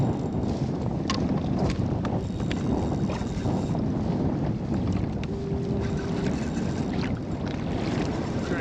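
Wind buffets a boat out fishing, a steady loud rush of gusty microphone noise with a few faint knocks and creaks from the hull, and no one speaking.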